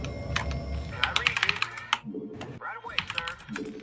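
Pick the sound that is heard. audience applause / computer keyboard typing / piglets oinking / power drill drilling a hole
computer keyboard typing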